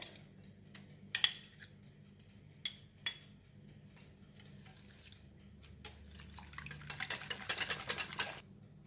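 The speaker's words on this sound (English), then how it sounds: "So I'm going to just beat the egg first." Egg being beaten in a bowl for a cassava tapioca cake, with faint, scattered clinks of utensil against the bowl and a busier burst of rapid whisking toward the end; quiet kitchen setting, no talk.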